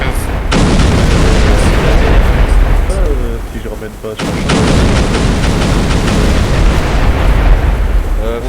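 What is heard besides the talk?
explosions and artillery fire in a Star Wars video game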